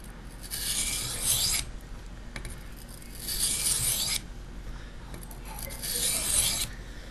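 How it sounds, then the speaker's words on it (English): A big knife blade is drawn across a DMT diamond sharpener in three long, close, rasping strokes with short pauses between them, steady and fairly loud with no talking. "as I'm sharpening this, that doesn't move"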